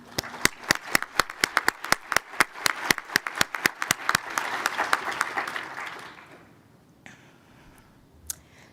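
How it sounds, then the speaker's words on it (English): A conference audience at a planetary science plenary session applauds early career award winners: dense, crisp clapping from many hands rises, then thins and fades out, leaving a quiet room with a few stray claps. "let's just give them all a round of applause"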